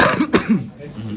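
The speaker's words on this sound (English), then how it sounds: "That was a cough." A sharp, close cough, a couple of quick bursts, with a voice just around it.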